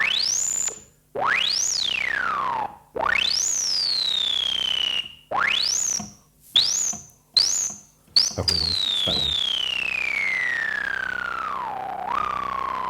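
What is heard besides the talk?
analog synthesizer tone following envelope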